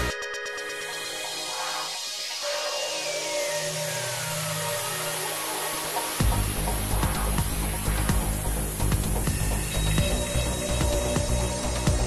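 Pneumatic and manual tools, including a Yato composite half-inch impact wrench, work side by side in a speed contest, producing continuous loud mechanical whirring and rapid ratcheting clatter that grows denser and heavier partway through.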